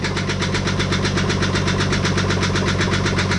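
A Jeep 4.0L straight-six engine runs with its oil pan removed, giving a loud, steady idle with a fast, even knocking pulse throughout and no talk over it.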